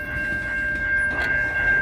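A VIA Budd rail diesel car rolls past at night, a steady low rumble with a thin sustained whine, moderately near and without voices.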